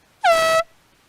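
Single loud air horn blast at a boat race, signaling the three-minute gun, a steady blaring tone lasting under half a second with a quick cutoff.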